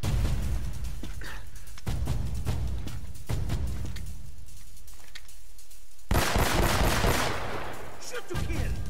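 Repeated bursts of gunfire from the Uncharted: Drake's Fortune video game, loud and dense, arriving in several clustered volleys with brief gaps between them and a heavier burst near the end.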